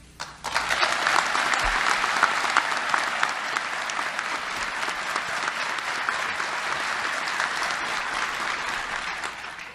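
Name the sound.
applause welcoming the FBI Director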